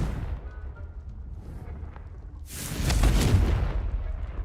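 A fiery Confringo spell explosion bursts in the video game Hogwarts Legacy, a loud low boom erupting midway after a quieter rumbling stretch, then roaring and fading.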